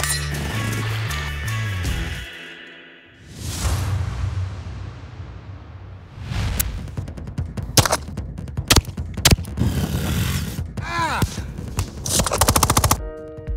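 Rifle gunfire during shooting training, rapid cracking shots in bursts and single reports layered over music and a whooshing transition, loud and close.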